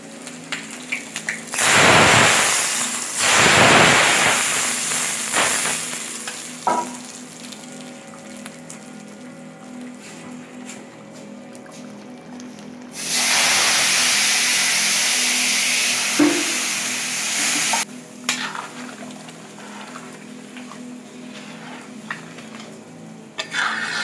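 Hot spice tempering with ginger and green chilli poured into cooked vegetables for dal labra, bursting into loud hissing sizzles that rise sharply and fade, with a second strong sizzle later and quieter cooking noise between.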